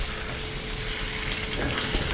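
Garam masala and oil sizzling in a pan while making Tamil egg curry with scored boiled eggs, a steady, close hiss of frying with faint crackles and no voices.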